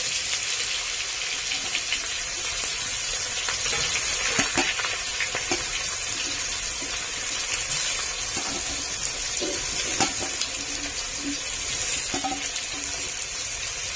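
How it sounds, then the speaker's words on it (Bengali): Raw jackfruit pieces frying in hot oil in a pan, a dense continuous hiss and crackle with scattered pops and an occasional light clink, close and steady throughout. "এবার আমি ইঁচড়গুলো ভেজে নেব।"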